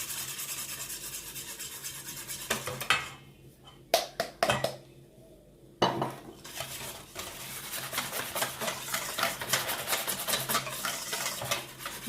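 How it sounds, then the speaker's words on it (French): Flour is gradually stirred into an eggless Moroccan krachel-style brioche dough in a bowl, giving a steady scraping, rubbing churn that pauses briefly twice before continuing, close and moderately loud. "On va rajouter peu à peu la farine et on mélange."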